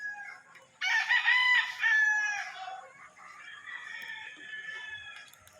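A Toledo Hatch gamefowl rooster crows once, close and loud, its bright harmonic call lasting about two seconds, then trails into softer clucking and chatter amid quiet farmyard background.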